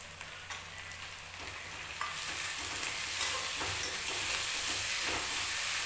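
Tomatoes tipped into a pan for a Punjabi-style simla mirch sabzi, frying with a steady soft sizzle that swells slightly after they go in, with faint stirring scrapes and no voices.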